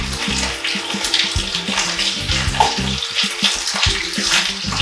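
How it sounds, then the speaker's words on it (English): Lamb necks frying in a pan, a steady loud crackling sizzle with spitting fat and scraping or stirring knocks throughout, no talk over it. "let me start frying my lamb necks"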